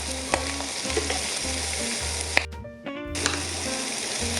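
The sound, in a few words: vegetable garnish frying and sizzling in a pan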